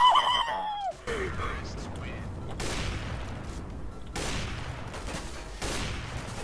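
Counter-Strike gunfire crackles in rapid, loud bursts, with noisy volleys of shots recurring through the stretch, while a voice exclaims at the start.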